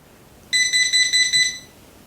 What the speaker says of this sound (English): So that's your beep for your timer to go off.